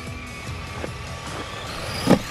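A Redcat Racing Piranha TR10 RC truggy drives toward a ramp. Its small electric motor whines steadily close by, with a brief louder rise near the end. No talking.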